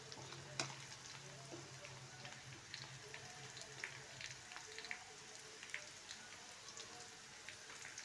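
Chopped onions softening in a pan for palak besan pathodi, a faint, steady crackling sizzle with scattered tiny pops and a brief clink early on, quiet and close.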